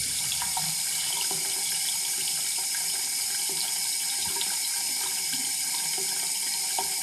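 Water runs steadily from a faucet in a home bathroom or kitchen sink, a constant close hiss and splash with no pauses and no talking.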